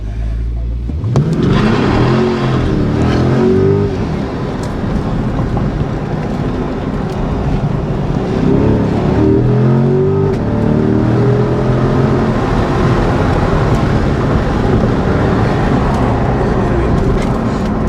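A Chevrolet Corvette C8 in manual mode accelerating hard on an SCCA autocross course in southern New Jersey, loud close engine note rising through gears with shifts, sustained roar for the whole run.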